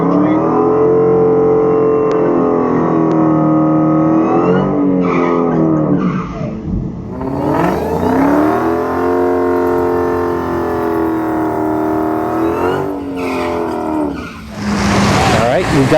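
A gutted Tesla Model S Plaid drag racing a 1000HP Dodge Challenger Hellcat Redeye down a quarter-mile strip: loud, sustained engine roar with rising and falling revs and tire noise, voices talking over it.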